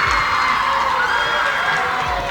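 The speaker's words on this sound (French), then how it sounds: "On applaudit." A crowd at a high school match between two lycées applauds and cheers steadily, a dense wash of clapping and shouts that stays loud and even throughout.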